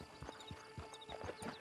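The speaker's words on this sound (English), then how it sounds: "Get on the horse there." Horse hooves clip-clop in the video game Red Dead Online, a quiet, steady run of soft hoof beats at walking pace, close by.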